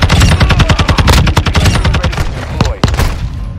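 Loud rapid automatic gunfire in a Modern Warfare 2 hardpoint multiplayer match, a fast steady burst of close shots followed by a couple of separate single reports.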